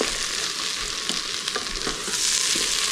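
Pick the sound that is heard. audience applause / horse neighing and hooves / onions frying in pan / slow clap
onions frying in pan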